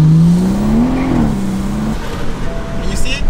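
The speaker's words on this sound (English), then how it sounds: "I'm gonna try to do a nice gradual pull for you guys so you guys can hear the turbo a bit better" A turbocharged car pulls gradually under acceleration, its engine tone rising steadily then settling, with a faint turbo whine and road noise beneath, recorded from inside the car.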